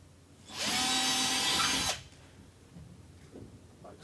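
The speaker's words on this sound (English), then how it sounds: "take a battery drill and a 5mm drill bit, drill our holes" A battery drill with a 5mm bit bores a hole during linen cupboard installation, a steady high whine lasting about a second and a half, then a few faint handling knocks.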